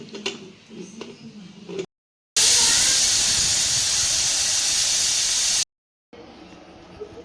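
A pressure cooker holding tomatoes and water for tomato soup lets off a loud, sustained steam whistle-hiss lasting about three seconds, set between quieter kitchen sounds before and after.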